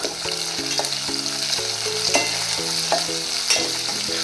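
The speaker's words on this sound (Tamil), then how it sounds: "இப்போ நம்ம 5 வரமிளகாய் சேர்த்து நல்லா வதக்கிக்கலாம்." Five dried red chillies fry in a pan with onions for a Chettinad fish curry. A steady close sizzle carries repeated spatula scrapes and taps as they are stirred, with soft background music underneath.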